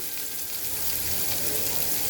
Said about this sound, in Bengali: মাছ ভাজা তেলের মধ্যে দিয়ে দেব পেঁয়াজ কুচি